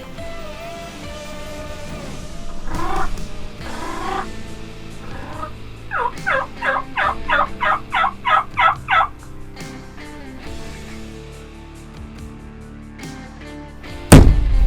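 A wild turkey tom gobbles outdoors, a loud rattling gobble of about ten rapid pulses in the middle, with softer calls earlier and a sharp knock near the end.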